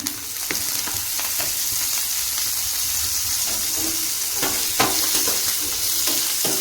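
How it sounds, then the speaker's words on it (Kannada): Chavali beans frying in oil in a pan, a loud continuous sizzle with occasional scraping stirs of a utensil, close up and without talk. "ಎಣ್ಣೆ ಹಾಕ್ಕೊಂಡು ಚೆನ್ನಾಗಿ ಹುರ್ಕೊಳ್ಳೋಣ."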